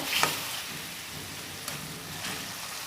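Fish frying in oil with onions, a steady close sizzle throughout with a few brief stirring scrapes and spatters, no voices.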